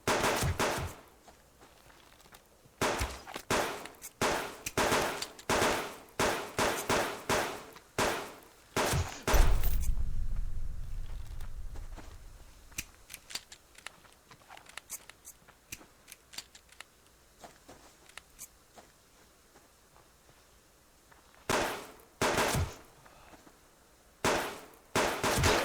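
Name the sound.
pistol gunfire against rogues in video game Subsistence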